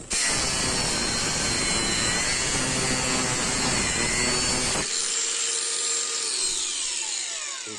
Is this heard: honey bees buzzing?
no